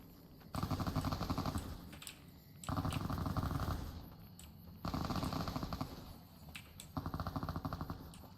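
Automated turrets fire in Fallout: New Vegas, four rapid machine-gun bursts separated by brief pauses, loud and close.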